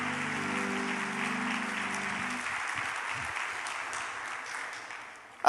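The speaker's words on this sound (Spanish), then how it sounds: "Démosle un aplauso a ese Jesucristo de Nazaret" Church congregation clapping together, a steady wash of applause with a low hum or voice underneath at first, holding for several seconds before fading out.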